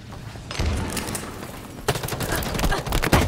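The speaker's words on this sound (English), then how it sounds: "Taking fire." Rapid bursts of gunfire in the Halo Infinite multiplayer video game, a short volley followed by denser, louder automatic fire with sharp repeated cracks.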